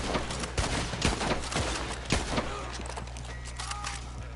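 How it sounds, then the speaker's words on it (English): A rapid, dense volley of gunshots in Red Dead Online: sharp cracks repeating over a steady noisy backdrop, loudest in the first half, then thinning to scattered faint pops. "Shouldn't have started shooting at me"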